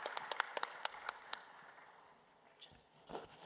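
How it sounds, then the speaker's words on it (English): A round of applause from an event audience, heard as a quick string of about ten sharp, separate handclaps that thin out after the first second into faint room noise, with a soft voice near the end. "Can we please give her another round of applause?"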